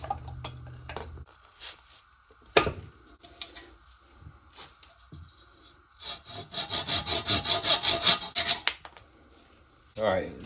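Handsaw cutting a piece of closed cell foam, 1.5 inches wide by 3/4 inch: scattered scrapes and knocks at first, then a steady run of rhythmic back-and-forth strokes, close and clear.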